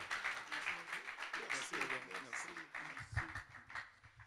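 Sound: congregation applause welcoming a pastor

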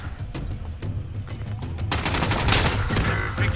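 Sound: gunshots in video game battle royale

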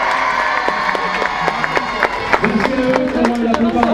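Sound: crowd applauding and cheering for the festival committee

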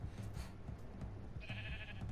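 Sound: sheep bleating in Minecraft Story Mode video game

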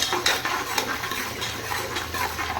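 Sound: onions sautéing in oil in a pan

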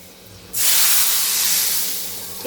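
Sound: hot tadka tempering poured into cooked whole masoor lentil curry

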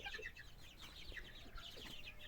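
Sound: chickens clucking

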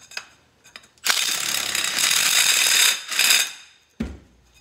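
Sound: Milwaukee Shockwave impact driver reaming a conduit end

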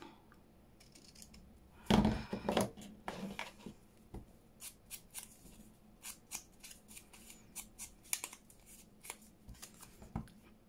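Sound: trimming paper for a junk journal

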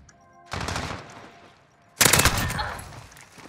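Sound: gunfire in a shooter video game

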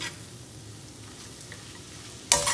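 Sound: eggs and drumstick leaves cooking in hot pan

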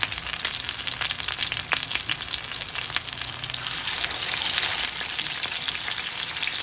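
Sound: frying in hot cooking oil

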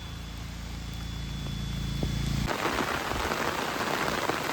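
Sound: rain falling on cardamom plantation

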